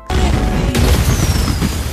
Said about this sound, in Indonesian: membuat kembang api yang telah Wade siapkan di dalam mobil meledak